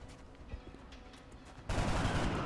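Soldiers open fire in the XCOM Long War video game: after a quiet lead-in with faint clicks, a sudden loud burst of rapid gunshots erupts and keeps rattling to the end.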